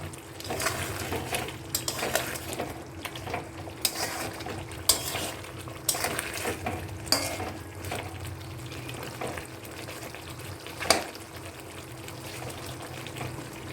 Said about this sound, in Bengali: এবার চিকেনটাকে আমি কড়াই তেল গরম করে বসাতে নিয়েছি